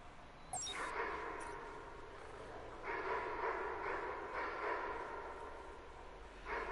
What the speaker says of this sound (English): Go on, you stupid dog, get electrocuted.